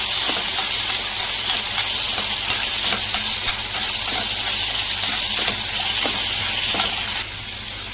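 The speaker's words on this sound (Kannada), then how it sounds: "ಸೊ ಇಲ್ಲಿ 1 ಕಪ್ ಆಫ್ ಕ್ಯಾರೆಟ್ ಆ್ಯಡ್ ಮಾಡ್ತಾ ಇದ್ದೀನಿ. ಚೆನ್ನಾಗಿ ಫ್ರೈ ಮಾಡಿ." Carrots frying and being stirred in a pan with ginger and coriander for a carrot chutney; a steady, loud sizzle throughout with faint stirring scrapes, softening slightly at the end.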